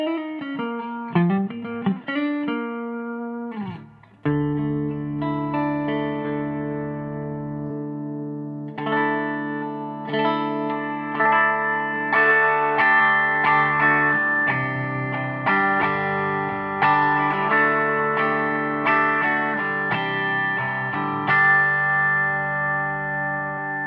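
A Fender Stratocaster played clean through the vibrato channel of a 1967 Fender Vibrolux Reverb amp with reverb on, ringing sustained chords and melodic notes that stay loud and continuous throughout, with no talking.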